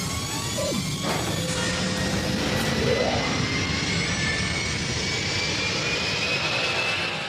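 A Millennium Falcon spaceship flyby sound effect: a roaring engine whooshes past, with a steady loud rush and a sweeping tone that rises and falls as it flies by.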